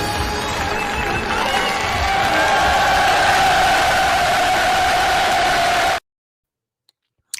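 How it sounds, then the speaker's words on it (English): Applause and cheering sound effect on a wrestling podcast swells loud and steady for about six seconds, then cuts off abruptly into silence. "You get the applause of the night."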